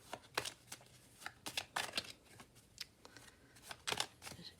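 A tarot deck being shuffled by hand before a card draw, a series of quick papery riffles and flicks in uneven bursts, close and fairly quiet with no talking.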